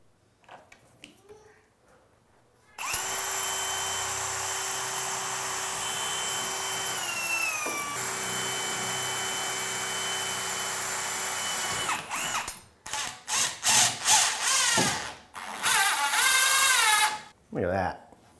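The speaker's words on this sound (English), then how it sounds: "I'm hoping I can just pre-drill in here" A power drill pre-drills holes in a pocket door frame for self-tapping screws during trim installation. One long, steady high whine is followed by several short, loud bursts with brief gaps between them.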